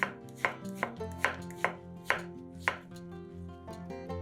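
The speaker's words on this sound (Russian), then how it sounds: "Затем каждую половинку кабачка разрезаем еще раз вдоль пополам и нарезаем четвертинками." A knife chops zucchini quarters on a cutting board, about eight crisp, evenly spaced strikes over steady background music, with no talk.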